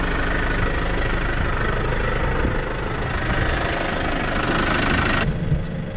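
Loud, steady diesel tractor engine rumble with a knocking, idling chug, close by and continuous, before mowing.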